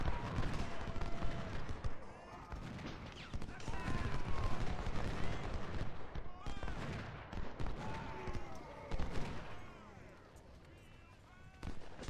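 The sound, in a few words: gunfire at artillery in video game Ultimate General: Civil War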